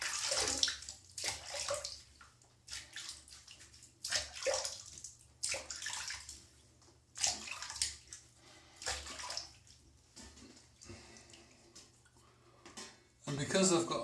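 Water splashes and runs in a bathroom basin as a face is rinsed after a wet shave, in repeated bursts of scooping and splashing with short pauses between them.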